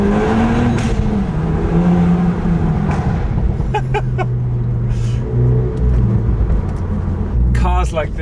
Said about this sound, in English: Let's try a cheeky tunnel run.